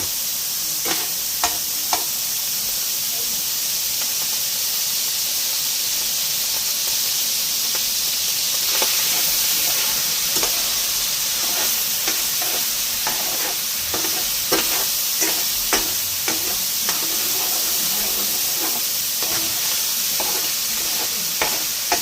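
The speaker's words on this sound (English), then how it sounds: "Now we're cooking it up. Now we're frying." Potato skins and mince fry in a pan, a steady loud sizzle and hiss with steam, and a utensil scrapes and taps the pan now and then throughout, with no voices.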